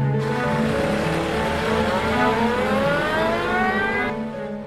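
A car's engine whines steadily with a rising and falling pitch as it moves slowly in reverse, loud and close for several seconds, then fades near the end.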